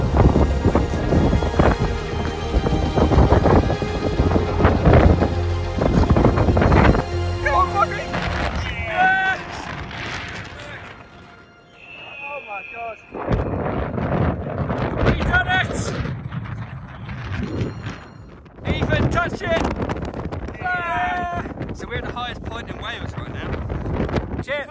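Strong gusting wind roars across the microphone on the Snowdon summit, loud and buffeting in bursts with brief lulls, while people occasionally shout and talk over it.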